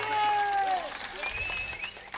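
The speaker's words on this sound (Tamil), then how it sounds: "கைதட்டு கொடுக்கலாம்" Applause from a crowd gathered at a family function with a hired mic-and-speaker setup, a brief patter of clapping under voices and a musical tone, fairly loud and lasting about two seconds.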